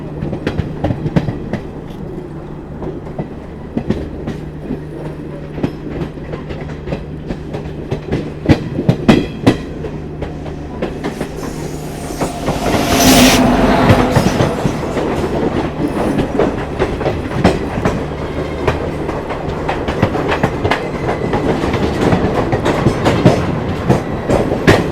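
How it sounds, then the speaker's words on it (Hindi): Indian Railways Jammu Tawi–Pune Jhelum Express rolls past at close range, a steady rumble with rhythmic clickety-clack of wheels over rail joints swelling louder midway and continuing throughout, no voices. "जम्मू तवी पुणे झेलम एक्सप्रेस।"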